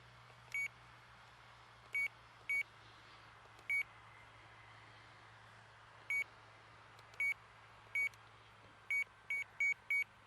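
A radio control transmitter sounds its switch warning as a series of short, high electronic beeps, single and doubled, spaced irregularly over a soft steady hiss and low hum.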